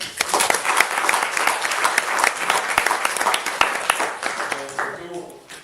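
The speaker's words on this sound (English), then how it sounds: "A round of applause." Audience at a youth dialogue event on AI breaks into a full round of applause lasting several seconds, dense with sharp individual claps, then thinning toward the end as a voice begins.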